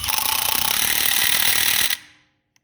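A Milwaukee M18 Fuel 3/8-inch compact impact wrench in tighten mode hammers rapidly on a tire's lug nut, a loud, close, fast rattling burst for about two seconds that cuts off abruptly and rings down into silence.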